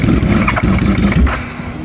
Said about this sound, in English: If I give it a whiff of throttle